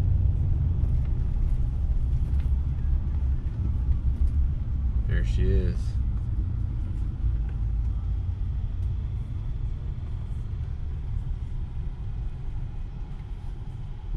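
A Honda Prelude engine runs on a hub dyno with a steady, low, heavy rumble throughout, while a voice briefly speaks over it partway through.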